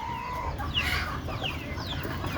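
Native broody hens cluck softly in a coop on a rainy day, a few scattered low calls and faint chirps, alone without speech.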